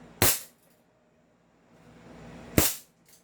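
A 2011 Godfather 6.0 gun fires two sharp, loud cracks a couple of seconds apart, with a quiet pause between them.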